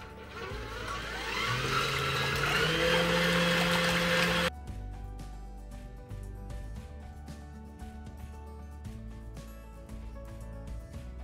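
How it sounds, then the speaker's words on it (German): A blender purees spinach leaves with eggs, milk, oil and flour, its motor whirring loudly and rising in pitch for about four seconds before cutting off, followed by a quieter, different background. "mixe die Blätter mit Eier, Milch, Öl und das Mehl"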